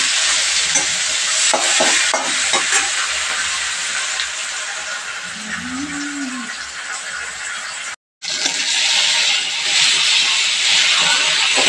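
Spices sizzling and frying in a pan for ghugni, with a cooking mix of sugar, bay leaves, tomato, onion and turmeric; a steady close hiss runs throughout, broken by a brief dropout near the end, with occasional stirring scrapes.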